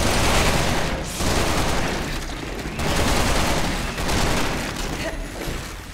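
Bear Commander gunfire in Resident Evil 6: dense, loud bursts of rapid shots and booming blasts, nearly continuous with brief pauses, with a voice talking underneath.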